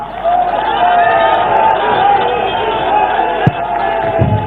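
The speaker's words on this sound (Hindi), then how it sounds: "मेरे साथ पूरी ताकत से बोलिए, भारत माता की, भारत माता की, भारत माता की" A large crowd at BJP headquarters, celebrating the NDA win in the Bihar election, chants "Bharat Mata ki Jai" in a loud sustained roar that fills the space, with scattered shouts and a sharp thump near the end.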